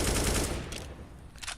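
A burst of rapid automatic rifle fire from a Counter-Strike spray during a PGL Major Krakow 2017 match between Gambit and Mousesports, loud and dense at first, then trailing into scattered shots.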